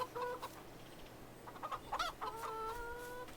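Chickens cluck in a farming video game, a few short clucks and a rooster-like call over a faint hum, with separate bursts of clucking spaced through the moment.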